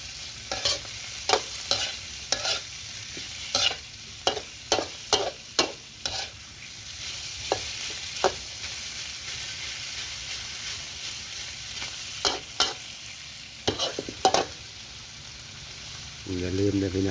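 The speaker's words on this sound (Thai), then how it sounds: "ใส่อั่วผัดใส่อั่วกับลูกชิ้นกับฮอทดอก" Sai ua sausage, meatballs and hot dogs are stir-fried in a pan, with a spatula scraping in repeated sharp strokes, sometimes in quick bursts, over a constant low sizzle.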